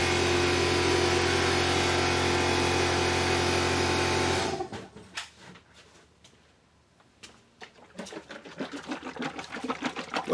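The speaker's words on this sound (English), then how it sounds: "let me wait till this air compressor goes down" An air compressor in a woodworking shop hums loud and steady with a droning tone, then cuts off abruptly partway through, leaving quieter scattered clicks and knocks that build again toward the end.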